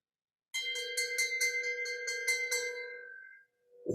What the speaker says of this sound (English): So this is our stand-in bell.